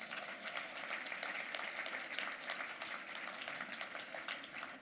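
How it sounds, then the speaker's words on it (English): A gala audience gives a round of applause, steady and even clapping that sounds faint and distant throughout. "Let's give Duncan a round of applause"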